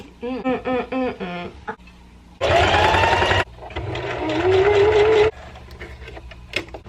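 A home sewing machine stitching chalk bags in an apartment runs in two long, loud motor bursts with steady whirring and rising pitch, after short rhythmic stitching pulses at the start.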